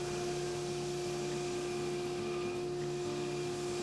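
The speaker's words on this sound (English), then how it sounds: "We grind and we remove all the bulk before heat treat." A grinder runs in a steady, loud, unbroken whine, with no pauses, while a knife blade is ground down to remove bulk before heat treating.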